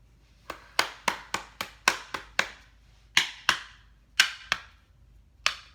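Sharp slapping claps of a hand against a deck of tarot cards ring out one after another in an uneven rhythm, crisp and close, with brief gaps between clusters.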